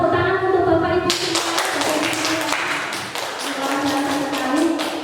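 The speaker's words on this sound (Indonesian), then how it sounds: "Tepuk tangan untuk Bapak Ibu" Audience applause at a teachers' school presentation, a dense burst of clapping that starts abruptly after a brief tonal sound and keeps up steadily at moderate loudness.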